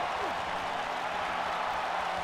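Crowd noise from a WWE 2K19 wrestling match, a steady, dense roar of cheering and applause filling the arena without pause.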